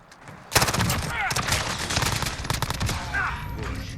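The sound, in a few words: Colt 9mm SMG hip fire in video game Call of Duty Modern Warfare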